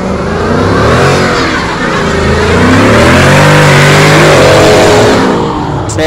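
A 5-liter Mustang on a city street revs hard, its loud, close engine note rising and falling in sweeping pitch as it accelerates past.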